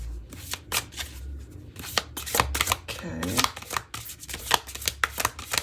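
Tarot cards are shuffled and handled at close range, giving quick crisp riffles and flicks in irregular bursts while someone talks over them.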